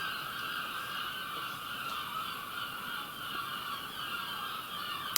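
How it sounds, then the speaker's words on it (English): Seagulls call continuously by the sea, a steady noisy chorus of many birds at middle distance with no voices over it. "Oh, those seagulls are having a real go,"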